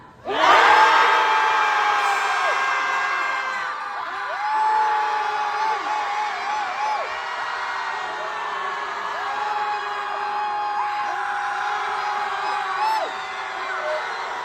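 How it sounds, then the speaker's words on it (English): A disability protest crowd in Bristol's Broadmead screams together in one loud, sustained, many-voiced roar that starts abruptly and holds for over ten seconds, swelling slightly before fading. "I'd like to invite you all to be uncivilised with me and fucking scream"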